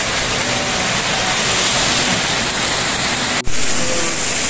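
A waterfall roars in a steady, loud, close wash of rushing water that fills the scene, broken only by a brief dropout near the end.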